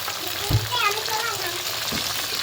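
Chopped onion drops into hot oil with spices in a pan, a steady close sizzle with a couple of soft knocks as it is stirred, and a faint voice briefly in the background.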